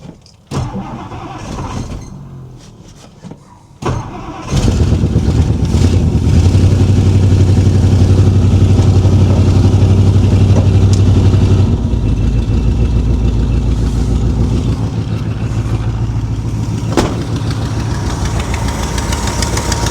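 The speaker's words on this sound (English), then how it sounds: "We'll fire her up right now, actually." A 1964 Mercury Marauder's 390 V8 with a bad exhaust leak cranks briefly, fires up loud and settles into a steady, rough, rumbling idle close by for the rest of the clip.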